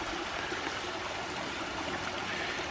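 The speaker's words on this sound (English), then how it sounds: "So we're left with this little waterfall here, if we can call this one a waterfall." A small waterfall on a creek in Bankhead National Forest, Alabama, trickles and splashes in a steady, soft, continuous wash of running water.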